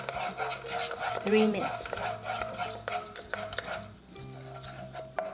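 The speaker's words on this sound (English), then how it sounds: "Stir fry the sugar until it is melted and slightly brown." Sugar stir-fried in a wok until melted, alongside pork trotters for red braising, gives a steady sizzle with scraping and clanks of the spatula against the wok, while a voice speaks briefly.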